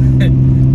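Nissan Skyline R32 pulling hard in second gear from about 2,500 rpm on a straight road, giving a loud, steady, deep engine drone throughout a brief moment, with a short vocal sound over it.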